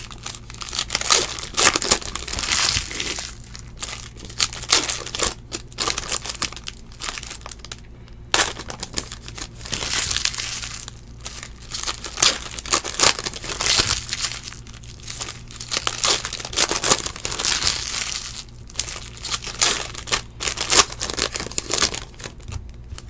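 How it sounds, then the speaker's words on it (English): Trading card packs of 2017-18 Optic Basketball are torn open one after another, with steady close crinkling and ripping of foil wrappers and short pauses between packs. "This sweet, sweet sound of ripping packs."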